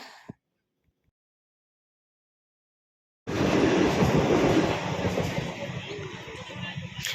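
A train rumbles and rattles steadily after a few seconds of near silence, loud and close, like riding inside a metro car.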